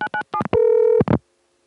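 A quick run of touch-tone dialing beeps on a 1980 phone line calling a loop-around test line, short tones in rapid succession, then one longer steady tone before a final beep and silence.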